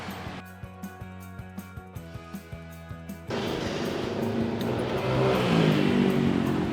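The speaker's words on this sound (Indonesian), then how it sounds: "kita nyalain yuk mesinnya" A Suzuki Katana's engine cranks with a quick rhythmic ticking, then catches and settles into a steady, even idle that holds close and constant to the end.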